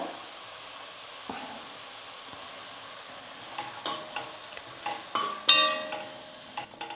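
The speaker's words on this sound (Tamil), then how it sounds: "ஒரு 2 நிமிஷத்துக்கு கீரை வந்து நல்லா வதங்கட்டும்" Spinach sautés in a pan with turmeric and salt. A quiet stretch gives way to several close scrapes and clinks of a utensil stirring against the pan.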